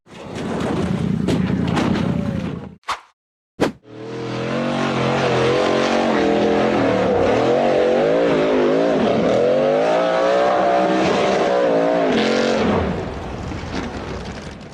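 An off-road buggy engine accelerates hard up a dusty dirt slope in a forest, revving loud and close with a wavering pitch for about ten seconds after a brief cut near the start.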